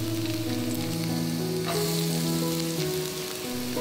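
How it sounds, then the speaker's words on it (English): Garlic and ginger sizzle in a wok over medium heat, a close, steady frying crackle with a brief stir-like burst midway, while background music with sustained tones plays throughout. "Now heat up your wok once again to medium heat. And we're gonna start with garlic and ginger."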